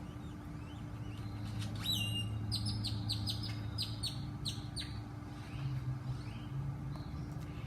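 Birds chirp in a summer garden, with a bright burst of rapid repeated tweets in the middle over a quiet, steady background hum.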